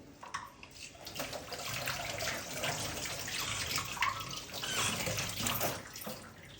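Fresh mint leaves are rinsed under a running kitchen tap, giving a steady, soft, close splashing of water that continues throughout with slight fluctuations and no talking.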